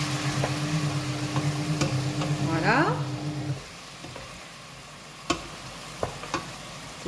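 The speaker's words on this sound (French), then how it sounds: "On vient déglacer un petit peu avec un peu d'eau" Frying pan sizzling as a splash of water is poured in to deglaze, a loud hiss and bubbling burst that dies down after a few seconds, followed by a few sharp clinks of a utensil.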